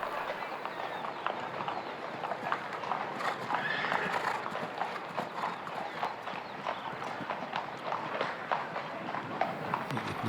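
Horse hooves thud at a CSI2* show jumping grand prix, a rhythmic canter muffled on arena footing, moderately distant beneath a commentator's steady talk and faint crowd ambience.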